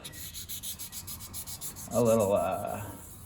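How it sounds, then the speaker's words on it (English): Fine wet/dry sandpaper, around 1000 grit or finer, rubbed on a small repaired piece in a steady rhythmic back-and-forth scratch, quiet and close, swelling into a louder, firmer stroke near the end. "you transfer over to a medium grit and a fine grit, all the way down to like 1000 plus wet dry sandpaper"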